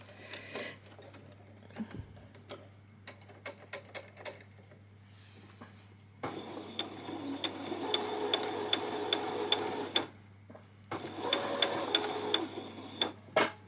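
Domestic sewing machine stitching fabric for a peasant top, running in two steady bursts with a fast rhythmic whir and clatter, close and alone after a few handling clicks and pauses.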